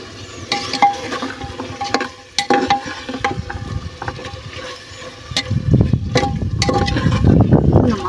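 Vegetables fry in masala in a pan while a spoon stirs and scrapes them, giving a steady sizzle with irregular clacks and scraping strokes that grow louder and denser toward the end.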